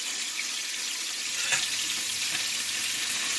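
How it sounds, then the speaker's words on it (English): A continuous close hiss of food frying in olive oil in a pan, steady and fairly quiet, with a faint knock partway through and no voices. "I just put in a quarter cup of olive oil into the pan."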